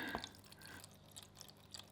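Water being poured into a kitchen steamer, a soft liquid trickle with small drips and splashes, faint and close, no one talking.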